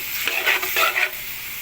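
Chicken liver sizzles and is stirred in a hot pan for pancit, quick scraping strokes over a bright, crackling fry, close and short.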